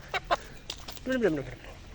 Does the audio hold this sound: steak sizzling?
no